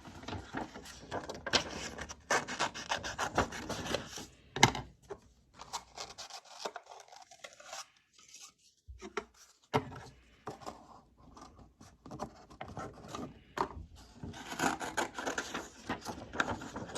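Scissors snip and rub through a cardboard toilet paper roll, an uneven run of crisp cuts and scraping with a brief quiet stretch midway, close up and without speech.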